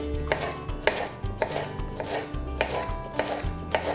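A knife chopping yellow squash, zucchini and red onion on a board, with crisp close chops in a quick irregular rhythm and no talk.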